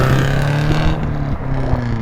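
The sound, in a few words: noisy truck passing by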